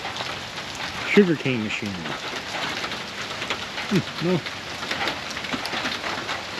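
Steady rain patters down outdoors among ruins, a continuous hiss under brief voices speaking nearby.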